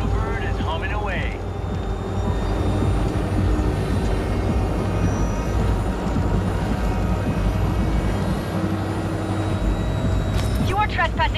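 A drone in Cyberpunk 2077 hums steadily and continuously at close range, like a small aircraft engine with a whirring, rotor-like drone, with a few brief chirping electronic blips at the start and end.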